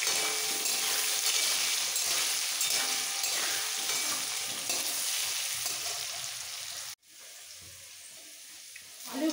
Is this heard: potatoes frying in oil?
yes